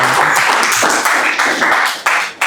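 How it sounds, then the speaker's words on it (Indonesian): A classroom group claps for group 4 after a presentation, with close, loud, dense clapping that stutters and briefly dips before a final burst. "Tepuk tangan kelompok"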